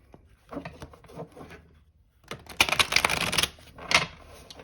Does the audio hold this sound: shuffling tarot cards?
yes